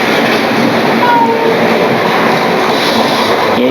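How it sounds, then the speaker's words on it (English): Continuous rolling rumble of a model railway train running along track, steady and close, with a faint brief squeal partway through. "Comes the train again."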